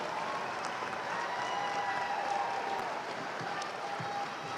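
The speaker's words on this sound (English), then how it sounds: "let's give them a round of applause" Applause from a graduation audience at a fall 2018 college commencement after the graduates turn their tassels, a soft, distant and sustained patter of clapping across a large hall.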